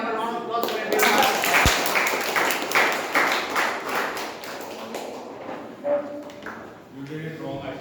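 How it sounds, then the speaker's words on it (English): An audience at a meeting claps in a dense burst of applause that gradually thins out, with voices talking over and after it. "Can we have a round of applause for everyone?"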